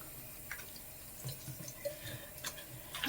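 Water runs faintly during a skin care rinse, with soft drips and splashes at a sink and scattered small taps.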